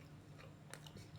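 Someone bites into a soft, squishy watermelon-flavoured gummy candy with a jelly filling, giving faint wet chewing and a brief squelchy bite close to the mic.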